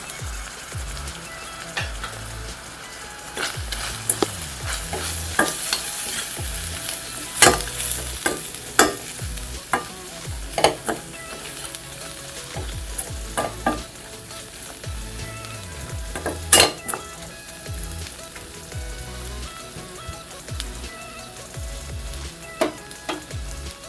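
Dal masala powder fries in a pan for a hotel-style dal curry, producing a continuous sizzle broken by frequent scraping stirs and occasional clinks of a spoon against the pan.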